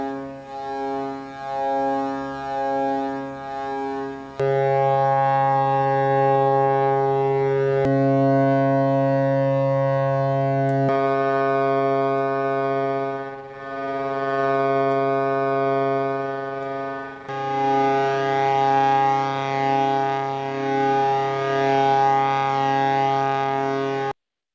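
High-frequency trading algorithm data turned into sound makes a steady, siren-like harmonic drone that shifts pitch and texture in distinct blocks, loud and continuous for over twenty seconds, with no voices.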